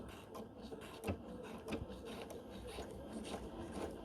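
A Bernina 770 sewing machine sews on a zipper with a steady, soft, fast needle chatter and faint ticks, close but quiet.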